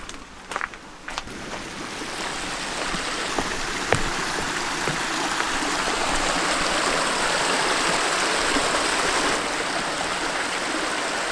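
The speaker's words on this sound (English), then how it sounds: "The creek right here by the cabin, it usually never is flowing, not unless there's a huge storm." A creek swollen after a heavy storm flows beside a cabin in the woods, a steady, dense rush of water that holds throughout, with a few light knocks or steps near the start and no speech.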